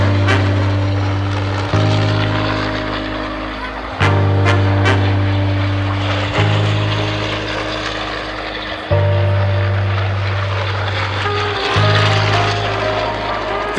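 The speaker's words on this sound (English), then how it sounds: "being flown by Mark Murphy, and that was an F4u-N, a night fighter, or F4u-5N." A Vought F4U-5N Corsair night fighter, a piston-engined propeller aircraft, roars past loudly on repeated fast passes, its deep droning engine note swelling and dropping with each pass.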